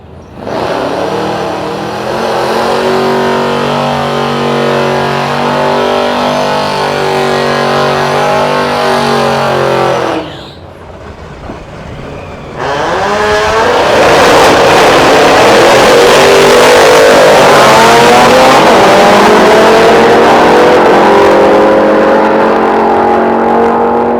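A hot rod making a drag racing run on the official track at Sick Week 2024, a loud engine droning at high revs, a brief drop in power, then another roaring full-throttle pass with rising pitch, very loud and close.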